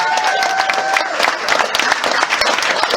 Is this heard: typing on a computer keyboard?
no